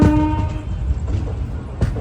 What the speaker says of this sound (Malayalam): 3-ാം നമ്പർ പ്ലാറ്റ്ഫോമിലേക്കാണ് ട്രെയിൻ വന്നത്